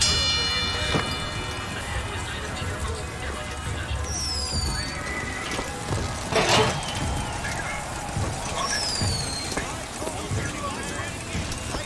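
A mechanical horse in BioShock Infinite gives two rising, whinny-like calls several seconds apart over a busy game soundscape with background voices and a sharp clatter between them.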